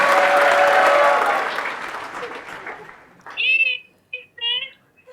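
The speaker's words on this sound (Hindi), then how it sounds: "आपके लिए अभी यहाँ पर सब लोगों ने बहुत बड़ी तालियां बजाई." A crowd at an interview gathering breaks into loud, dense applause that fades over a few seconds, followed by a person speaking alone.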